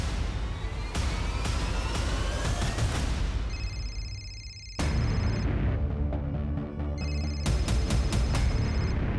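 A phone ringtone sounds in repeated bursts amid loud, dense background noise, with no talking.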